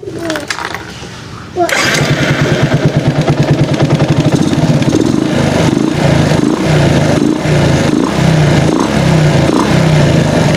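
A motorcycle engine fitted with a modified PWL 28 carburetor starts after a brief quiet moment, then runs steadily and loudly at idle with a fast, even pulsing chug, close to the listener.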